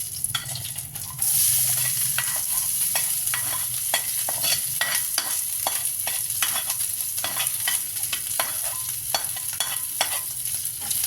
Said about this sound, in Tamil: கடையில் செய்து வைத்த சிக்கன் மசாலாவை அதில் போட்டுக்கிறாங்க